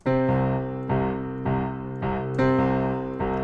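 Piano plays the intro in octaves, chords struck in a slow, even rhythm, each note ringing bright and full before the next strike, played alone and close.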